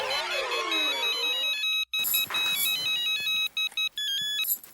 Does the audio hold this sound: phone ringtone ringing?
yes